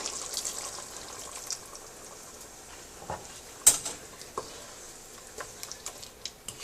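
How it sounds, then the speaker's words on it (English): Water pours steadily into a pan of cooking chicken curry with a soft, hissing rush, broken by a few sharp clinks and taps from the pan or a utensil. "I'm going to add 1 cup of water."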